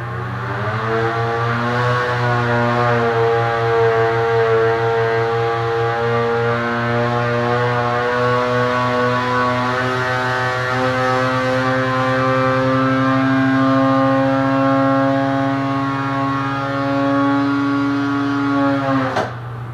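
A Polaris Matryx 850 snowmobile engine with a torque link flash, stage 2 clutching and a Y-pipe roars loud and steady through a full run, its pitch climbing and holding high before dropping off sharply at the end.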